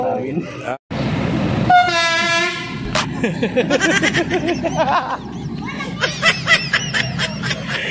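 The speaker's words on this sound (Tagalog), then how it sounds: "Yan po si Kuya Balo, nagta-traffic ng tren." A train rumbles past close by with clattering wheels and a brief horn toot, while people chatter over the noise.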